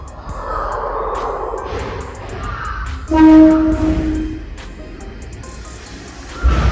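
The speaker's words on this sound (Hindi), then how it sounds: "भैया मेरे पीछे देख सकते हैं कि ट्रेन अभी आ रही है।" A train pulls in near the Sumida River in Tokyo, its horn sounding loudly and steadily over the rolling rumble of the wheels and continuous outdoor traffic noise.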